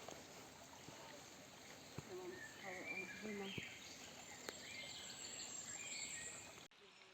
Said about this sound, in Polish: Ptaki wokół śpiewają.